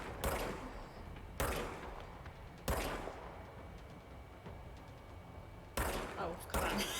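Gunfire in the action game Control: a few loud, sharp shots spaced several seconds apart, each decaying into a quieter room-like tail, with a voice talking faintly in the background.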